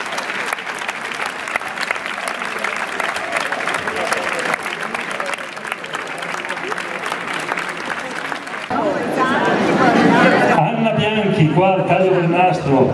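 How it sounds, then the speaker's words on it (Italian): A large crowd applauds at a church gathering in Gottolengo, the dense steady clapping swelling louder and closer in the last few seconds, with voices mixed in. "Dedicherei un grosso applauso"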